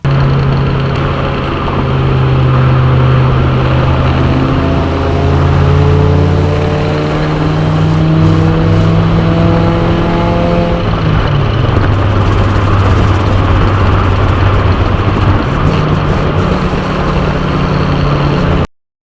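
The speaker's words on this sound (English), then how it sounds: "brought it to a local dyno shop where I could film underneath the car, spinning it up to 100 miles per hour" A Mazda Miata runs up to 100 mph on a dyno with a drive shaft vibration, the engine droning loud and steady close by while harmonic tones climb in pitch, then settle near the end. No one talks.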